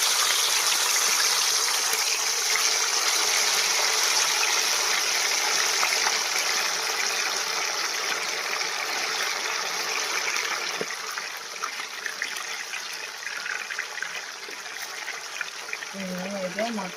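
Korameenu fish pieces sizzle in hot oil with a steady, dense hiss that stays loud for the whole stretch and eases slightly near the end, where a voice briefly comes in.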